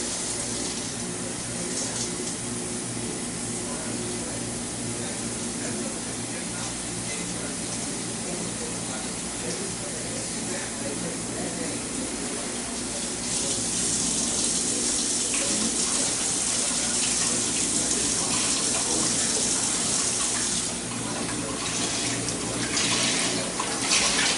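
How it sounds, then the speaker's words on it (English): Steady running water pours into a cooking pot for ramen for a long stretch, growing slightly louder and brighter partway through, with no talking. "And we're going to go ahead and add some more water to it."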